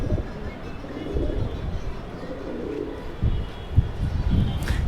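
A few pigeons coo softly at close range, low throaty burbles against light background noise, with a brief voice nearby.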